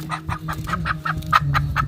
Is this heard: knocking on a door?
no